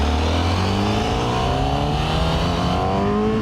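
Honda CBR1000RR-R sport motorcycle engine climbing above 6000 rpm, a loud, close revving wail whose pitch sweeps steadily upward through the gear, with wind noise beneath and no talking.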